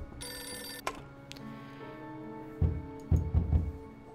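A phone ringing in the video game Beholder 2: a bright electronic telephone ring bursts early, followed by quieter tones and a few low thumps near the end, with no talk.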